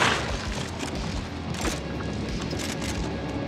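Revolver shots ring out in the shooter game GTFO, several sharp, loud cracks spaced irregularly over a dense, noisy background of combat.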